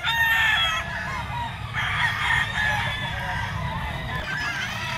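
Roosters and young stags at a Sunday poultry market crow and cluck over one another, loud and close. The dense chorus fills the whole stretch without a break.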